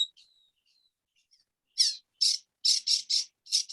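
A northern mockingbird mimics other birds, starting with faint thin whistles, then giving a rhythmic series of harsh, repeated bursts, clear and isolated against silence.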